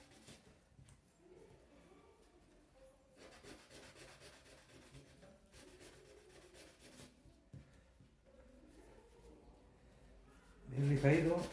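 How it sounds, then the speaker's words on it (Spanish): Wood being hand-sanded in a single direction in a craft class, a steady soft rasping rub running under continuous talk, with a louder knock near the end. "Bien lijadito y en una sola dirección el lijado."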